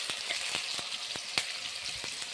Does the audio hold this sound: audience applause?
no